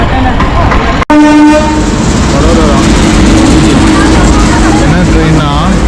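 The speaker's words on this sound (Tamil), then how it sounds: "அதே ட்ரெயின் இப்போ ரிவர்ஸ்க்கு போகுது" A train horn sounds loudly up close at Dwarka station, then a reversing train rumbles steadily past with wheel noise and screeching rail squeals, voices faintly underneath.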